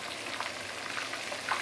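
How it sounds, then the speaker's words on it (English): Fish pieces fry in hot oil with a steady, dense sizzle and faint crackling pops, close and constant throughout with no voices. "Total, I think this frying probably about 5-6 minutes."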